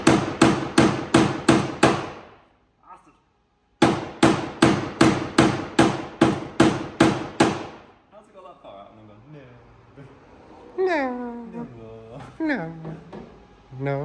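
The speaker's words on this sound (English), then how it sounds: "Every time I got to film you started hammering" Steady, rapid hammer blows ring out in two bursts while building a demountable pickup camper, separated by a brief pause, then give way to a person talking.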